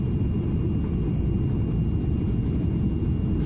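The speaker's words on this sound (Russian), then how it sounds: "Самолет все ближе и ближе к земле" A TUI fly airliner descends on approach to landing, heard from inside the cabin as a steady, loud low-pitched engine and airflow rumble that continues without break and with no talking.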